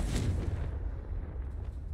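A Confringo fire spell from Hogwarts Legacy explodes in a loud, deep booming burst with a fiery crackle, then rumbles and fades over about two seconds.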